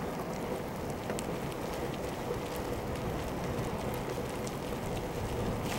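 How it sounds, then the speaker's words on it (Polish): Light rain patters in a forest during mushroom picking, a soft steady hiss with occasional sharper drops, faint and uninterrupted. "Deszcz pada."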